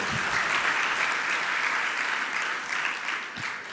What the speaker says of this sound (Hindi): जोर से ताली बजा दो अपनी हार पे